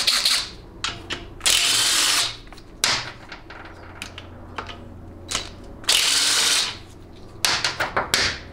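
A ratchet works loose the 9/16 extension housing bolts on a TH350C automatic transmission teardown. Sharp bursts of rapid clicking alternate with short pauses, close and loud, without speech.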